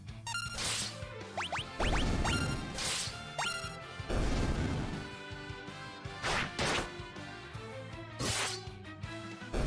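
Battle sounds from Final Fantasy IV play as a series of sharp sword slashes and crashing impacts, including a distinct critical-hit strike, mixed with whooshing effects, rising chimes and chiptune music in rapid, uneven bursts.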